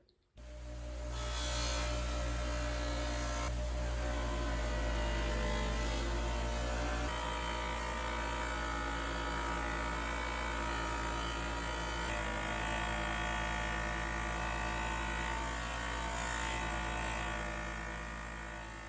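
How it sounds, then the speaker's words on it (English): A polishing wheel buffs an aluminum spoked rim from a BMW R60/5 Airhead motorcycle, giving a steady, loud motorized whir with a low hum that holds throughout with slight shifts in tone as pressure changes. "right now I'm going to get to the polishing stage"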